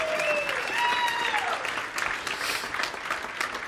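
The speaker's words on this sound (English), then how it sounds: "Let's go ahead and give them all another round of applause because they're awesome." Audience applause fills a conference hall at a networking event panel, dense and steady clapping throughout with a brief overlapping voice near the start, fading slightly toward the end.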